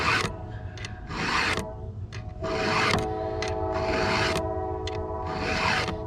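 Hand file rasping across a chainsaw chain, starting in the gullet and then along the top of the cutter, in repeated rhythmic strokes with short pauses between them, close and fairly loud, no talking.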